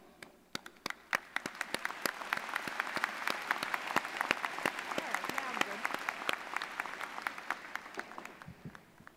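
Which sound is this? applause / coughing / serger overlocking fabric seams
applause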